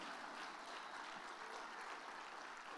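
A church congregation claps in steady, dense applause that runs the whole time. The sound stays faint and distant, without pauses or clear single claps.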